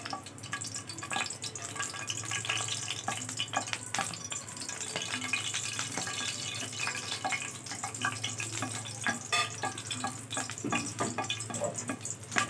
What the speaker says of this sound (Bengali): এবার মরিচটা ভালোভাবে ভেজে নিচ্ছি।